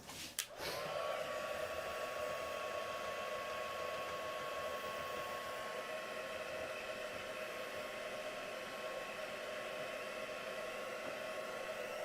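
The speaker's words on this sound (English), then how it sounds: "Just give it a blast with your heat tool." Heat tool blowing steadily to dry craft work, a continuous loud whooshing hum starting after a brief click and running unbroken to the end, with no talk.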